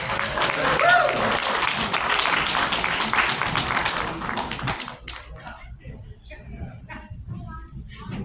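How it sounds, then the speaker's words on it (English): Dense crowd applause fills the first half, then thins to scattered claps and a few voices before fading into quieter room noise. "Big round of applause for all three of us."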